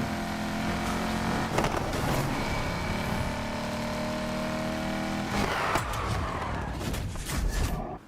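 Racing car engines in the video game Need for Speed Heat, a sustained roaring drone with shifting revs and a couple of passing surges, no talk.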